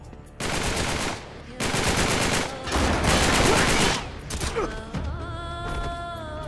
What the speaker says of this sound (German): Auf was schießen die?